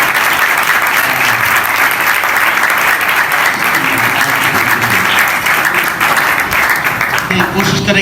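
A church congregation at a sermon breaks into loud, sustained applause that fills the room, with a voice speaking over the clapping throughout.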